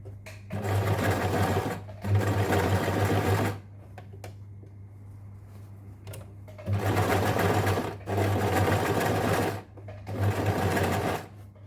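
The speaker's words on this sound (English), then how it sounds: "Start stitching from the side, the center part, down to one end." A sewing machine stitches a long frock made from two different fabrics, running in several long, steady bursts of dense mechanical whirring separated by brief quiet pauses, loud and close with a constant low motor hum throughout.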